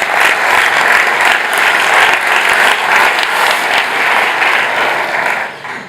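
Dense, sustained applause from a conference audience at a real estate event, loud and steady throughout before tapering off at the very end.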